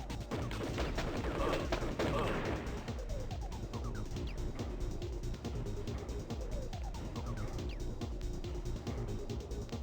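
Rapid bursts of turret gunfire in the 1995 PC game Crusader: No Remorse, loud and sustained with dense repeated shots and busy game effects throughout.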